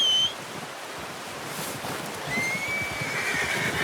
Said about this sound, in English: Here comes our horse somewhere